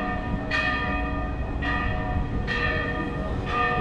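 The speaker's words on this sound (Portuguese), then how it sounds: "Inclusive a igreja tá tocando sino agora." Church bell ringing near the port area of Santos, Brazil, near the Coffee Museum, four evenly spaced metallic strikes with long ringing tails over a steady low street rumble.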